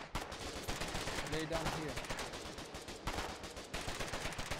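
Rapid gunfire in Foxhole, a steady stream of close, sharp shots and bursts rattling throughout, with someone briefly speaking over it.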